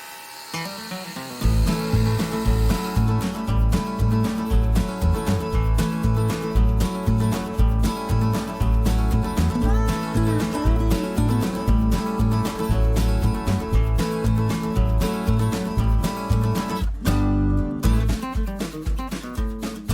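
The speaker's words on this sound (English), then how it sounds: "Okay, so the noise of the pump." The fresh water tank pump on an RV runs continuously, a loud mechanical whir with a fast pulsing rhythm that cuts out briefly near the end before resuming.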